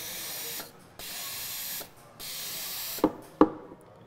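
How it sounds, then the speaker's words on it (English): A Sage Oracle espresso machine's steam wand purges itself in a steady hissing spray of steam in several bursts, cutting off and restarting, followed by two sharp mechanical clicks near the end. "Our steam wand will automatically purge to clean itself."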